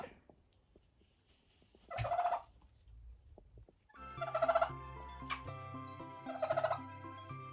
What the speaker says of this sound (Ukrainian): Такий поважний індик